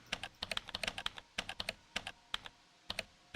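Fingers tapping out words on a computer keyboard, quiet close key clicks in quick uneven bursts with short pauses between groups, no talking.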